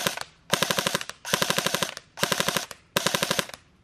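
Krytac Kriss Vector airsoft electric gun running on a 7.4 V battery and firing full automatic in four short bursts, each a rapid string of sharp mechanical cracks, with brief quiet gaps between bursts.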